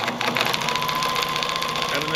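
A Pfaff 1473CD sewing machine running a straight stitch, giving a brief, steady, buzzing whir of the motor and needle at close range.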